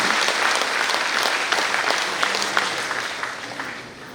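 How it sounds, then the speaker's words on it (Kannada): Applause from a ceremony audience honouring a contributor to education and social service: steady, dense clapping from many hands filling the room, gradually tapering toward the end, with no voices over it. "ದಯವಿಟ್ಟು ಅವರಿಗೆ ಕೈ ಚಪ್ಪಾಳೆ ಮೂಲಕ ಒಂದು ಅಭಿನಂದಿಸೋಣ."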